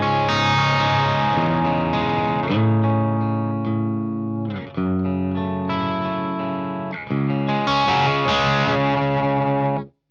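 A Fender Ultra II Telecaster with a split bridge pickup plays chords through an amplifier set to a mild crunch, loud and close, in three phrases that each ring out before stopping sharply, with no voices.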